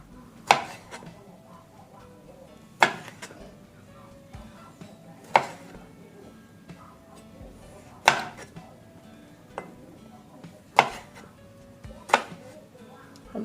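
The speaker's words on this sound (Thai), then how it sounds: "อันนี้เราน่าจะหั่นสักนิดหนึ่งนะคะ" Knife chopping onion and tomato for a Thai spicy salad in a home kitchen: a handful of sharp, separate strikes spaced a second or two apart, close and fairly clear over faint background clatter.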